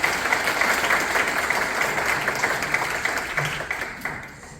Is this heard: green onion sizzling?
no